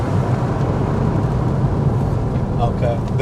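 A manual 997.1 Porsche 911 Carrera S engine drones steadily at around 4,500 RPM while driving on a road, a dense, loud roar heard from inside the car with no breaks.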